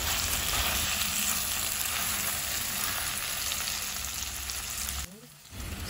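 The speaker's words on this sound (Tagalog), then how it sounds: "Isusunod natin yung ating fried na tofu. Ayan, halu-haluin lang natin ng konti." Fried tofu stirred in a hot pan hisses with a steady dense sizzle and faint scraping, close and loud, before the sound drops away briefly near the end.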